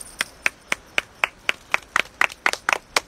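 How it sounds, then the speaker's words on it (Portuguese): Hands clap in a slow, steady rhythm at a live performance, about a dozen crisp, close claps spaced evenly, turning slightly uneven near the end with no talk. "Aplaudam essas pessoas lindas."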